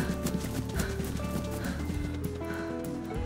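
Hooves clop rhythmically close by as an animal, a goat in DayZ, moves around, with a steady background hum and occasional bleating-like calls.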